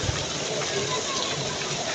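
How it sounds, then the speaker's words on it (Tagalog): Heavy rain pours down outdoors in a steady, dense hiss, with a person talking over it. "Lakas ng ulan."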